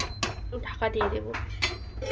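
A metal lid clinks and clatters onto a cooking pot of prawn curry with drumsticks, papaya and potato, a few sharp clanks close by in a quiet kitchen.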